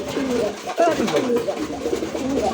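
A male Madrasi golla pigeon coos in a deep, rolling, repeated call close by, with someone talking over it.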